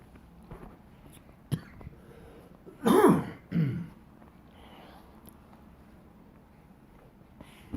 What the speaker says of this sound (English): For once, that's not a weed cough.